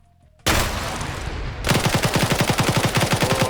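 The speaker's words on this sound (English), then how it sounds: "He's going for the mag dump." Video game gunfire: a sharp initial blast, then a rapid automatic burst that empties the magazine in evenly spaced, loud, close shots.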